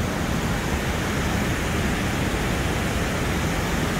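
Waterfall spilling down from a dam at a Georgia state park, a steady, dense wash of rushing water heard up close and continuous, with no voices.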